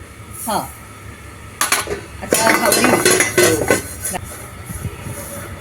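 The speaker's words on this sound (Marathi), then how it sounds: "आता पहिले शेंगदाणे भाजू त्यात काजू भाजून घेऊ" Peanuts and cashews being dry roasted in a pot, with clattering metal scraping and rattling nuts in bursts that get busier midway, close by.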